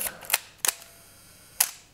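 Three sharp mechanical shutter releases from Nikon FE and FM film cameras click close to the microphone, two in quick succession and a third after a short pause, against near silence.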